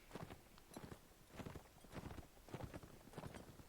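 Several horses' hooves clip-clop in the medieval combat game Mount and Blade, a steady, muffled galloping rhythm of soft thuds repeating throughout, fairly quiet and with no talking.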